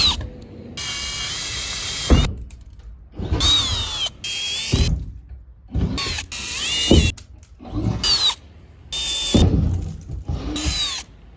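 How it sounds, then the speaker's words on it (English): A power drill whines and grinds through van roof metal plating in several separate bursts, each a few seconds long, with brief silent pauses between them, close and loud. "make sure you use a big enough drill bit when drilling through metal plating"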